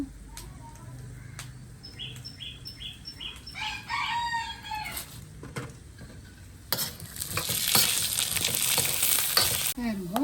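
Oil sizzles and crackles steadily as a homemade crispy mixture snack fries, growing louder and hissier partway through, with scattered sharp pops and a few faint chirps early on.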